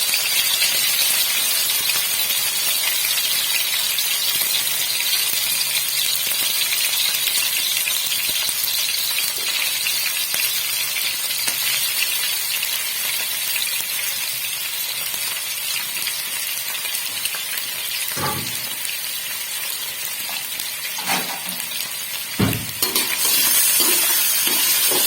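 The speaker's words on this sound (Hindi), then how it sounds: "थोड़ा सा इसको चिकन में फ्राई करेंगे" Small chicken pieces fry in hot oil in a karahi for Peshawari Shinwari chicken karahi, giving a steady, close hiss and sizzle with a few stirring knocks and clanks toward the end.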